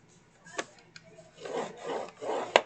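Paper being scored for a cut-apart craft: a few faint taps followed by three soft, rasping strokes of a scoring tool along the sheet, close and quiet, without speech.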